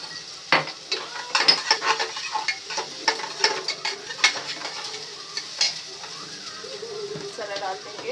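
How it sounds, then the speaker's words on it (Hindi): Chopped onion, ginger and garlic sizzle and fry in a pan, with steady crackle, stirring scrapes and utensil clinks close by while someone talks over the cooking. "इसमें प्याज डाल दिया है और ये देखिए इसमें फिर अदरक लहसुन को डाल देंगे"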